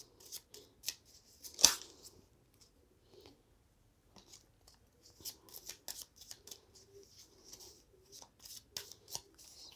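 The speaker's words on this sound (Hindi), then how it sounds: "मैं वापस एक बार शफल करूँगी।" Tarot cards are shuffled by hand in soft bursts of riffling and flicking, with one sharper snap near the start and a looser run of crisp shuffles later, close and quiet, with no voice.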